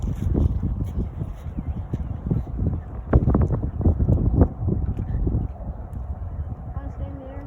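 Strong wind buffets the microphone in gusty low roars while an RC plane is flown, with people talking over it throughout.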